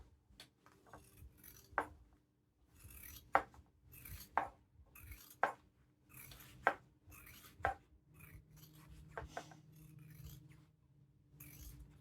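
Scissors trim crossbody bag material in a series of quiet, close, irregular snips and cuts with soft rustling between them, no talking.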